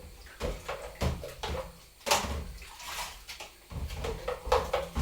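Dishes being washed up under running water at a kitchen sink while banana and oat pancakes cook, with sloshing water and clattering pieces in uneven bursts, close by and fairly loud, no talk over it.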